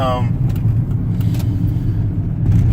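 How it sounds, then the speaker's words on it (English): Rush-hour road traffic with cars passing close by, a steady loud engine rumble and swelling whooshes of vehicles going past throughout. "These people out here driving crazy in this rush hour traffic."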